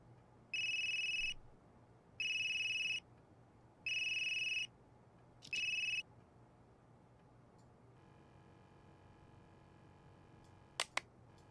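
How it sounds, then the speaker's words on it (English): A phone rings in the video game Unheard: four evenly spaced electronic ring bursts, clear and alone against a quiet background, followed by faint ticking and a couple of sharp clicks. "That geezer's phone is ringing."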